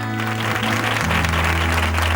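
A crowd at a tribute event claps steadily throughout, a dense wash of applause with a low musical drone sustained underneath.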